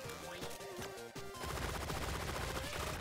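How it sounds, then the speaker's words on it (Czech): Rapid submachine gun fire in the video game Relic Hunters Zero, a dense continuous burst of shots that grows louder and fuller partway through, with no talk. "máme na ní submachine gun, který sice střílí pořád a docela rychle se nabíjí"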